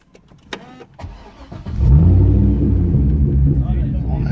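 A Chevrolet Corvette C6 engine cranks and catches after the ignition is switched on, rising into a loud, deep, close rumbling idle that settles and holds, with a few clicks and a brief voice just before startup.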